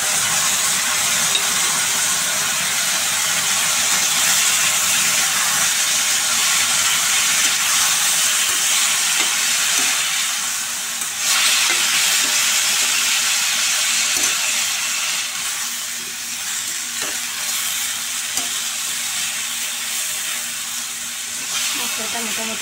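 Spices frying for Bengali spinach ghonto hiss and sizzle steadily as a little water hits the pan, with faint clinks of stirring over the constant, close sizzle.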